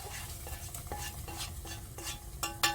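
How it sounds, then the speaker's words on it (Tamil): Tempering being stirred into a pot of millet bisi bele bath, with a steady scraping stir and light sizzling, plus a few soft utensil clinks near the end; no talking. "நல்லா கிளறி விட்டுருவோம்."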